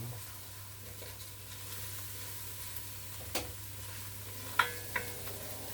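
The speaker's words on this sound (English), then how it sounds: "Like the onions are cooking." Onions fry in a pan with a faint, steady sizzling hiss, broken by a few soft clicks and utensil taps toward the end.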